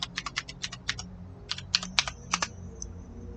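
A password typed on a computer keyboard in the video game Escape the Backrooms: a run of crisp, evenly spaced keystrokes, then a brief pause and a few more taps, close and clear with no talking.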